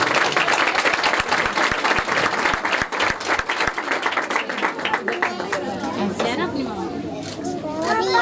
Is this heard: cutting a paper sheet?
no